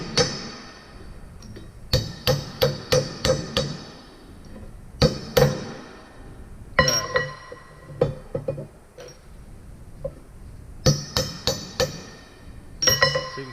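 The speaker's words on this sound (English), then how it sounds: "And use my center punch to beat it down." Sharp metallic hammer blows drive a center punch down into a steel tube on a gravity conveyor saw table, landing in quick bursts of several strikes separated by pauses, close and loud with ringing clinks.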